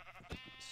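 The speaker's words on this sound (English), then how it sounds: "I slug these sheep, by the way, so I'm just gonna whack them so I have a bed" A sheep bleats briefly in Minecraft, a short nasal bleat heard close and on its own with no talk.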